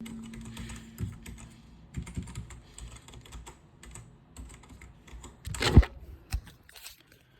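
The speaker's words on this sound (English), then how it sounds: "Once you type the password of your Wi-Fi network" Quick, uneven keystrokes on a computer keyboard as a Wi-Fi password is entered during macOS recovery, close and fairly clear with a couple of louder key hits and no talking.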